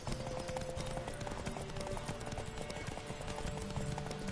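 A horse galloping in a Witcher video game race, rapid rhythmic hoofbeats pounding continuously and close over game sound.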